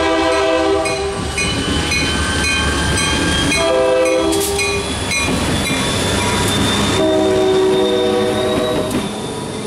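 The Reading T-1 2102 steam locomotive, pulling an excursion train, rumbles past close by with loud, sustained horn blasts sounding over the steady roar of wheels and cars.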